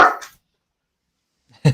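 A dog called Orion, a loud boy, lets out a sharp close bark, then after a second and a half of silence starts another bark.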